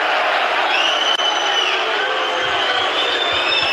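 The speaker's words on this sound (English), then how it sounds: "So the crowd are enjoying anyway." A football crowd at an English Championship match roars and cheers in a dense, sustained wash of voices that stays loud and even throughout, with no single voice standing out.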